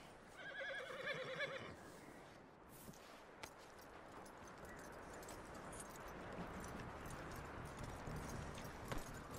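In the Red Dead Redemption 2 video game, a horse gives a short whinny and then hooves clop and shuffle nearby under a constant background wash, fairly quiet throughout.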